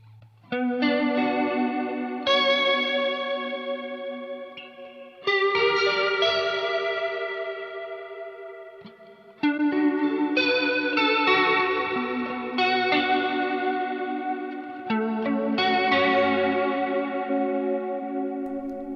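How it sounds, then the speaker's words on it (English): Sustained electric guitar chords with wobbling vibrato from a Zoom multi-effects pedal and a reverberant wash, played in three long phrases with brief pauses between them. "And let's hear it with some reverb."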